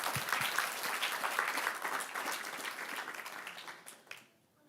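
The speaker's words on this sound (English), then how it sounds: "So applause for them, please" An audience at a city council meeting applauds, a dense, even patter of many hands that fades out near the end.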